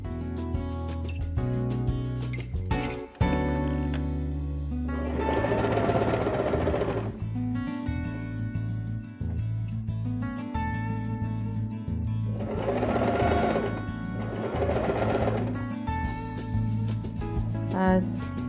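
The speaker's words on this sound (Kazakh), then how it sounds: "сыдырмамыздың екінші бөлігін тігіп аламыз" Sewing machine stitching the second side of a zipper onto fabric for a cushion cover, a steady mechanical whir in repeated runs with short pauses, close and fairly loud, with music playing throughout.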